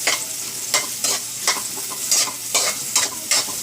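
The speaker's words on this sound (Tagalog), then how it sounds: "nakikita nyo naman ang aking ginigisa" Onion and garlic sautéing in a pan, with a steady sizzle under repeated scraping stirs at a quick, uneven rhythm, close and moderately loud, with no talking.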